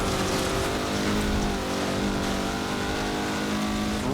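A Mazda MX-5 Cup race car in Forza Motorsport 7 at the Nordschleife, its engine held at a loud, steady high-rev drone with a strong harmonic whine and no other sounds.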